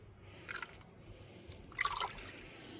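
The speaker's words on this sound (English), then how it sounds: "I'm just draining away that murky water." Murky water drains from a gold pan holding an Aberdeenshire gold ore sample, giving a faint, close trickle with a few soft splashes and drips that swell briefly. No voices are heard.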